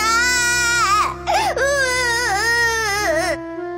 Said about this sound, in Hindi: उसमें से एक बच्चे के रोने की आवाज आने लगी